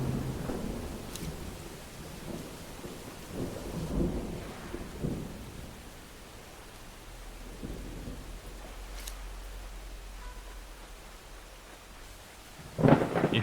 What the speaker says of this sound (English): If y'all listen during the thunderstorms at the end of it, there's a honk.